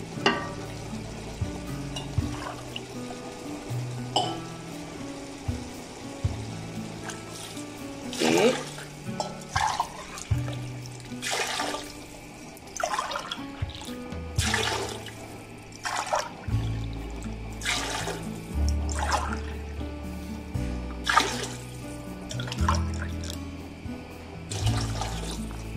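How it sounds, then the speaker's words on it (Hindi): Water pours steadily into a pot of chicken and vegetable pulao with rice, sizzling and bubbling close by, with repeated clinks and scrapes of stirring over about twenty-five seconds. "अब मैं डालती पानी"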